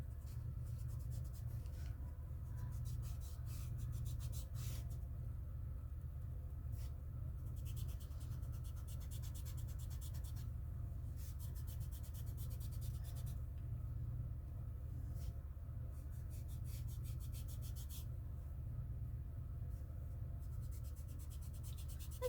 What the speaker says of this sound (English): Now I'm just going to rub it in.